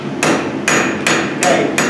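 A blacksmith's hammer strikes an anvil while forging a horseshoe trivet, five loud ringing blows at a steady, slightly uneven pace, close by with no talking.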